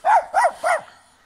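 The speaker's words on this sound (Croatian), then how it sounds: "Ovo je pravi pas čuvar." A mixed-breed guard dog defending its territory gives three quick, loud barks in a row, close by, then falls silent.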